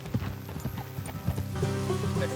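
Horses' hooves clip-clop steadily at a walk in the video game Red Dead Redemption 2, fairly quiet and close, with faint ambient background and no talk.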